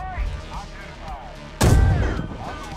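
Artillery shells land in the tank game Gunner HEAT PC, one sudden heavy booming impact with a rumbling tail, arriving amid quieter in-game sounds.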